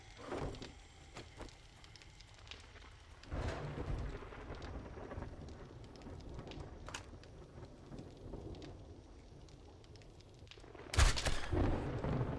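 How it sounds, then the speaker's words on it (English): A thunderstorm in the video game 7 Days to Die: steady rain hisses beneath loud, sharp thunder cracks, with a big clap near the start and another heavy crash near the end. "I am safe from the storm."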